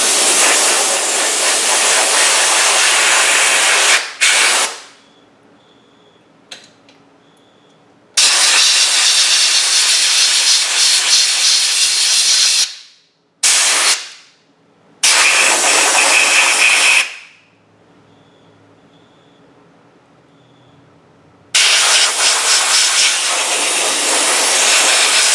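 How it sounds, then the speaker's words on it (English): Compressed air blows in several loud, steady hissing bursts while drying the parts of a Stihl BG 75 leaf blower during its rebuild, with near-silent gaps between the blasts. "Let's dry it off a little bit with some compressed air gently."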